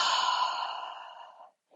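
A long, steady exhale during a hip and hamstring stretching routine, one continuous breath fading out over about a second and a half, close and clear with no talking.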